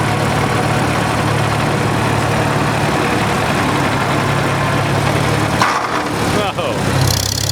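Antique tractor engine running steadily at a vintage farm machinery show, a loud close rumble that eases off near the end as the throttle drops, with a voice talking over it.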